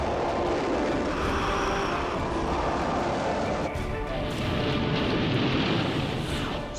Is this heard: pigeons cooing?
no